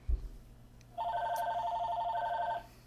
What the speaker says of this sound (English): Why would the phone be ringing now?